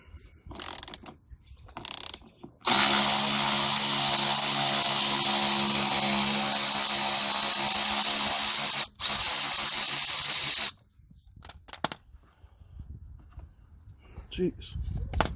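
Power tool spinning out Torx bolts from a Trail Armor skid plate on a RZR RS1 side-by-side in a garage: a loud, close whirring run of about eight seconds, briefly interrupted once, with handling clatter around it.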